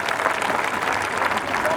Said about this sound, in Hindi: आप शंभू शिखर का आसमान तक तालियां बजा सकते हैं